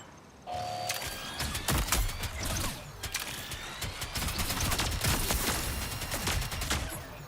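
A turret in the Marathon video game fires rapid bursts of gunshots close by, with clattering mechanical impacts and a steady stream of shots.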